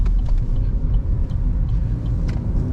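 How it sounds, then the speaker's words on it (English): A car passes on a road, a low rumbling swell of tyre and engine noise heard from inside a moving vehicle, moderately loud and steady for a few seconds without talk. "And you can hear this car, listen."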